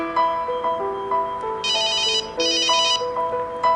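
A loud electronic ringtone plays alone, a repeating melodic pattern of bright tones with brief buzzy bursts, ringing steadily without pause.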